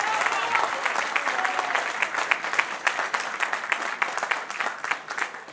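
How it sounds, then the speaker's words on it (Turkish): A crowd at a political party congress in Balıkesir applauds steadily, dense rapid clapping sustained throughout at a fairly loud, even level. "Alkışlıyoruz."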